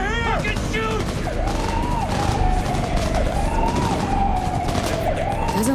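Rapid gunfire in the video game Cyberpunk 2077 crackles under wailing police sirens during a street shootout, with voices mixed into the loud, busy scene.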